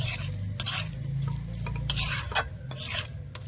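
Cabbage filling with sugar, chopped coriander and green chilli is stirred in a pan, a spoon scraping and rubbing in steady repeated strokes over a low sizzle, close and alone.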